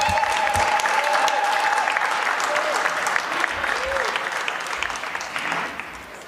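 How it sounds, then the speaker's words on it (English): Sustained audience applause after the President's bill-signing speech, loud and continuous dense clapping that gradually tapers toward the end, with some talk mixed in. "Better with a round of applause."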